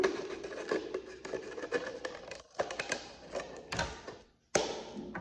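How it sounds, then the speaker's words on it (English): Scissors snip and crunch in quick, irregular bursts around a plastic bottle being trimmed for a bottle rocket, close and fairly quiet, with a short pause near the end. "So I am going to trim around the bottle."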